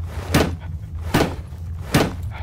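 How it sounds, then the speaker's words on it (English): Three loud, evenly spaced bangs of a hammer on a door in the horror game Penumbra: Overture, each a heavy wooden thud about a second apart over a low hum. "banging on your door with a hammer, that probably got his attention"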